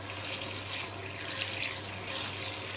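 A kitchen tap runs water into a cooking pot, giving a steady, close hissing rush that continues without a break and has no voices over it.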